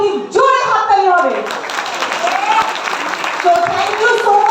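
Audience applause in the Science City Auditorium Hall during a health awareness program, a broad steady clapping wash under a speaking voice, loud and close throughout.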